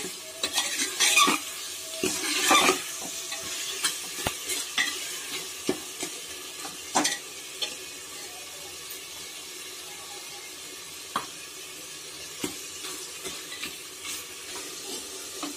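Tomatoes fry and soften in a pan while a spoon stirs them, producing repeated clinks and scrapes against the metal over a soft, continuous sizzle.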